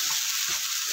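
Chili masala paste sizzling in hot coconut oil, a steady close crackle and hiss filling the whole moment, with two soft low stirring thumps and no voices.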